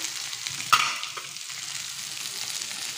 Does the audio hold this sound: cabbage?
yes